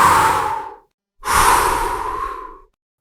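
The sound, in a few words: narrator imitating the wolf's huge threatening breath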